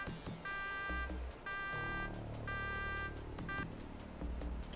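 In the Shadowrun video game, an alarm blares in repeated pulsing electronic beeps, four bursts at a steady rhythm over low rumbling background noise, with no speech.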